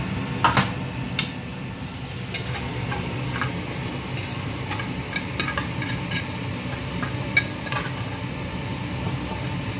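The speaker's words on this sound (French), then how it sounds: "Et on va verser les oignons par-dessus juste un peu." Onions poured over meat in a frying pan crackle and sizzle softly, with scattered sharp pops and clicks of utensils over a steady low hiss.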